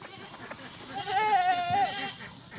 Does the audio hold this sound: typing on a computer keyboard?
no